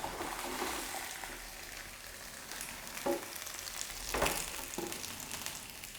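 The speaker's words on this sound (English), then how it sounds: "you can hear the sizzling sound" Food sizzling on a George Foreman Evolve grill set to 190, with a steady soft crackle and hiss, fairly quiet, punctuated by a few brief louder pops and clinks.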